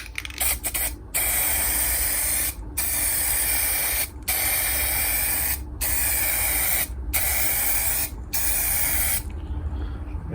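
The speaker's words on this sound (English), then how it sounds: "press the nozzle down when it's pointing away from the light, so there's no splatter on it" Aerosol spray can painting Celica LED tail lights, with several long steady hissing bursts separated by short clean pauses, close and loud.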